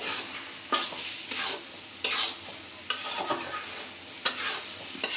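Taro leaves cooked with hilsa fish are stirred in a pan, with a spoon scraping in several short, uneven strokes over a steady, soft sizzle. Nobody speaks.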